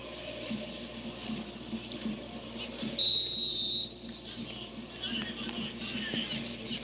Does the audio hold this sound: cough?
no